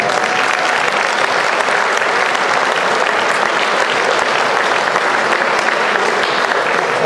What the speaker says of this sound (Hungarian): Krenkeni Kő és Kertész András, nekik is egy tapsot hagyj kérlek.